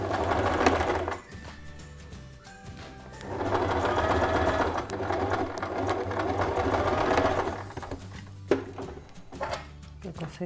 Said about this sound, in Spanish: un poquito antes del final vamos a coser esta unión